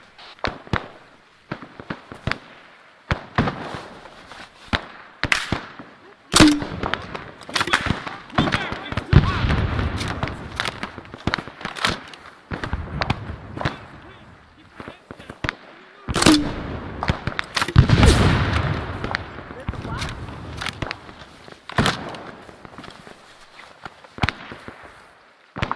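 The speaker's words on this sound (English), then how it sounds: "Fucking grenadiers using their fucking grenade launcher." Grenade launcher fire in a close-quarters war video game battle near Pakpong, heard as a dense run of sharp bangs and thudding blasts at irregular intervals, mixed with other gunfire and someone talking over it.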